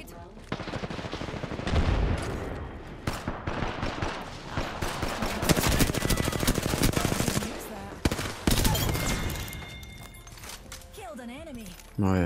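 Apex Legends gunfire, dense bursts of rapid automatic shots and sharp cracks continuing throughout, with someone talking over the action.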